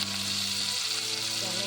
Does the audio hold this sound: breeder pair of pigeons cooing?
no